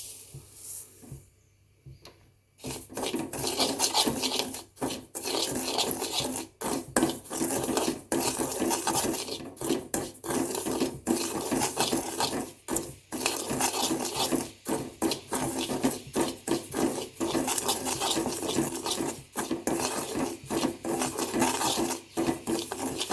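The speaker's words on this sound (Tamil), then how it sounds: "ஒரு கடாயில் நம்ம எடுத்து வச்சுருக்கிற ரவையை நல்லா வறுத்துக்கலாம்" Semolina roasts in a kadai, stirred with repeated dry scraping and rasping strokes in a steady rhythm. It starts after a brief quiet moment and stays close and moderately loud.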